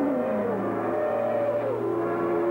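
Formula One cars race through Adelaide's city streets at the Australian Grand Prix. A loud, continuous engine whine rises and falls in pitch as the cars accelerate and pass.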